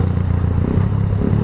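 A Keeway Cafe Racer 152 motorcycle engine runs close by, a steady low rumble with a rapid, even pulse and no rise in revs, heard alone without talking.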